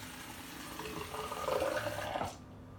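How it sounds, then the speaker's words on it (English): Water from a tap or jug runs and splashes into a container for a DIY hair mask, a steady close pour for about two seconds before it stops abruptly. "A little bit of water."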